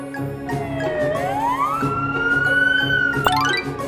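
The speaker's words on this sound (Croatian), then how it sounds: "Vozilo hitne pomoći." An ambulance siren wails close by, its tone sliding up and holding in a long rising sweep over a low engine rumble, with a short bright effect sound near the end.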